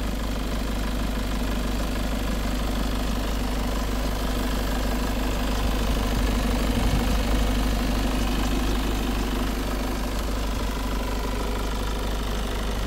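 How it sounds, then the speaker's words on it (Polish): A 2.0 BlueHDi 150 diesel engine in a Citroen C5 Tourer idles steadily, a continuous low rumble with a faint regular clatter, heard up close with no talking over it. "a Wy słuchajcie, jak pracuje silnik."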